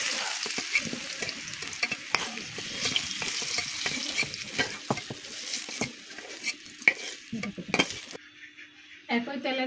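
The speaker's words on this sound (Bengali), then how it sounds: "এখন ভালো করে ভেজে নেব।" Papaya pieces fry in hot oil in a pan, giving a steady sizzle under frequent scraping and stirring clatter from a utensil. The sound cuts out near the end.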